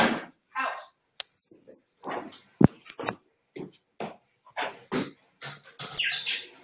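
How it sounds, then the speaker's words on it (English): A dog barks in short, sharp bursts indoors, repeating irregularly at close range while a person talks over and between the barks. "It might get harder and harder as she keeps barking."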